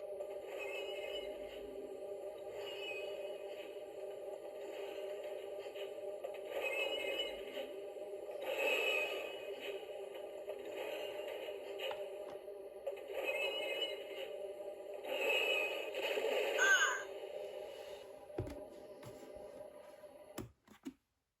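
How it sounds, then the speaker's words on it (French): Star Wars Battle of Hoth effects of Imperial walkers and Snowspeeders: a steady droning hum with rhythmic pulsing swells and mechanical whines, fairly quiet and continuous, ending in a couple of sharp clicks. "nous allons entendre bien sûr le bruit des marcheurs et du Snowspeeder"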